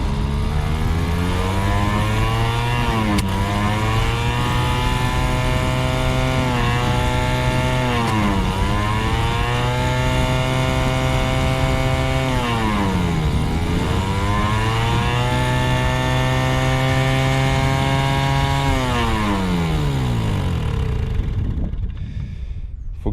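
An old Mobyx moped engine, idle for over 40 years, runs loudly and close up. It revs up and down in repeated waves for about twenty seconds, then winds down and cuts out.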